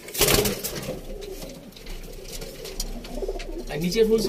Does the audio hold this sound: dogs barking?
no